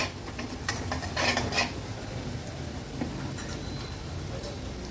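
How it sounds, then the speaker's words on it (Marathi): Spices cooking in oil in a pan for a spicy Nashik-style matki misal, with a spoon clinking and scraping against the pan in scattered bursts over a steady low background. "आता हे सर्व मसाले ना छान आपल्याला तेलात असे शिजवून घ्यायचे"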